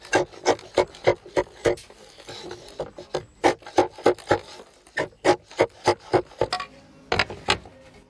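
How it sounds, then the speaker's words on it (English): Natural slate roofing stones shaped by hand with a tool, heard as a close series of sharp, dry rasping knocks in a steady rhythm with brief pauses and no talk. "each stone, whose cut surface changes completely depending on pressure, is shaped with millimeter level precision as the slate is laid"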